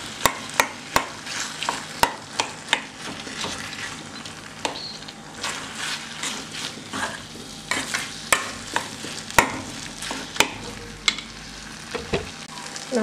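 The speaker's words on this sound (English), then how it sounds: "Using a spoon, break the potatoes into small pieces." A spoon breaks potatoes into small pieces in a pan for potato masala, giving steady scraping and stirring with frequent sharp clinks against the pan over a soft sizzle, with no talking.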